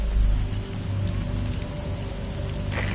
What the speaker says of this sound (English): Rain. The sound of rainfall should help to mask your footsteps.